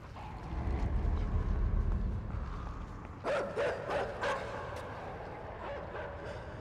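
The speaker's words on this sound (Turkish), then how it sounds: "Köpekler var." Dogs bark in the video game Inside, a cluster of several sharp barks heard at a distance after a low rumbling start, followed by quieter ambience.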